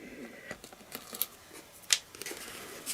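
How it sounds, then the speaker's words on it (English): Protective tape being peeled from a plastic shaker card jar, heard as quiet sticky crackles and a few sharp snaps of tape, close and intermittent. "Take this tape off"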